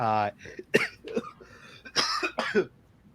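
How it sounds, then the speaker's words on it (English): A few short, rough coughs from one person close by, mixed with brief throat sounds and a voiced noise at the start. "I still have that cough."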